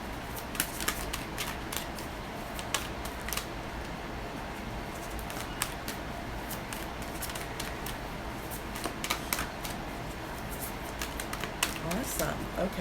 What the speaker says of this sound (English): Okay, as I shuffle.